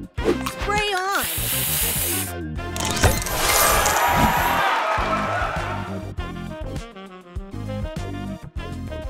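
A spray booster fires in the Match Masters puzzle game with a loud rushing hiss that swells and holds for several seconds, framed by bright chiming game tones and a synthetic announcer voice.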